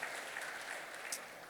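A church congregation claps together during a sermon, a faint, even spell of applause lasting about a second and a half.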